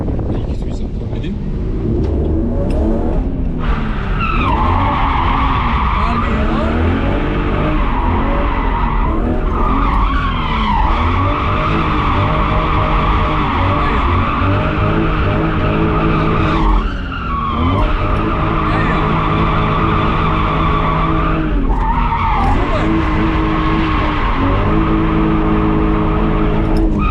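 Car drifting in circles on a practice area, a loud, close tire squeal that keeps rising and falling over the engine roar, sustained with only brief breaks across nearly half a minute.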